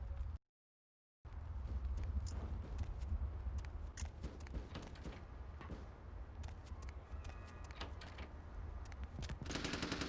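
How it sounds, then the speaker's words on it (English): Rapid machine gun bursts in the video game VTM The Final Nights, sustained and dense across most of the stretch after a brief silent gap near the start, with scattered sharper impacts and rattling mixed in. "At least the machine gun isn't nearly as loud as in that first cutscene"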